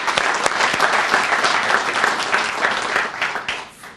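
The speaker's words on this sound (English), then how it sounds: "and give her a round of applause." An audience applauds at a 911 call center accreditation ceremony, a dense burst of clapping from a crowd that stays steady for a few seconds, then thins and fades toward the end.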